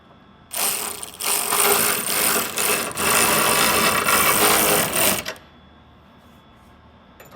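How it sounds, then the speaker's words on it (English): A ratchet wrench with a 19 mm socket tightens mounting bolts on a 25-gallon spare tire transit tank, giving a loud, close, continuous rapid clicking burst of about five seconds that then stops abruptly. "And we'll get these tightened up with the 19 mil."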